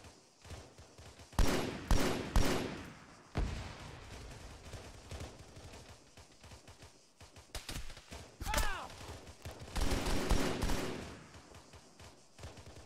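Suppressing gunfire in an Arma military operation, with bursts of rifle and machine-gun fire coming in loud clusters and scattered single shots, some close and some more distant, over steady battlefield noise.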